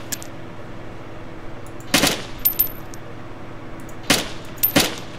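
Gunfire in the DayZ video game, three sharp bursts of shots a couple of seconds apart against a quiet humming background.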